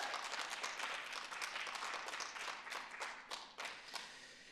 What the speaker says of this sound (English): let's give the Gaithersburg Book Festival committee and staff a great round of applause